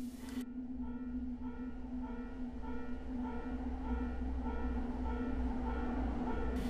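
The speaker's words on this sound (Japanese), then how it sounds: "電車が到着するようです" A steady rumbling hum with a sustained tonal whine as a train pulls into Tsutsuishi Station, continuous and fairly constant throughout, no talking.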